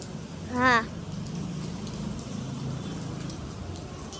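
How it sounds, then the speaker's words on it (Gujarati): Steady soft hiss of light rain falling, with a brief high chirp near the start. "ધીમો પડી ગયો વરસાદ ભાઈ ધીમો પડી ગયો"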